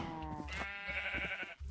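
Sheep in the Minecraft video game bleat in a series of nasal, quavering calls, fairly close and clear, with a short pause near the end before another begins.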